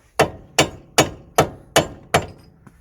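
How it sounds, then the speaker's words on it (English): The rawhide face of a mallet strikes a Nissan Note drive shaft to free it from the wheel hub, giving six sharp, evenly spaced thuds about half a second apart, close and loud, with no talking. "hit the drive shaft with the mallet, the rawhide side of it, to push the drive shaft inwards to free it from the hub"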